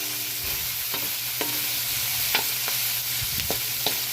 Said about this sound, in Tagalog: Nagluluto tayo ngayon ng papaya na may giniling at lagyan natin ng gata.